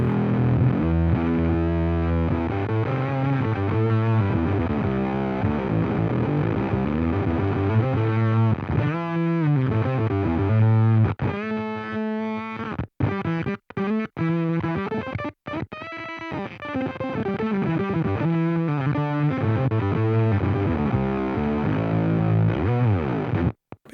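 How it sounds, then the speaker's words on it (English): An electric guitar played through a Polyblue Octave pedal with fuzz gives a thick, distorted, octave-doubled tone, with sustained chords and riffs filling the passage before choppy, stop-start notes near the end. "that's the Polyblue Octave, and a taste of the Vespa as well"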